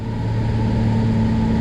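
A 1983 Piper Chieftain's twin piston engines in cruise flight, running smooth at 28 inches and about 2,300–2,400 RPM: a loud, steady, close drone with a strong low hum and no speech.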